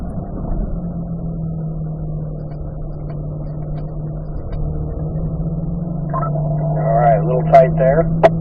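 A car engine drones steadily in fourth gear on a track, a loud, continuous in-cabin hum that holds a level pitch before rising slightly near the end; someone talks over it.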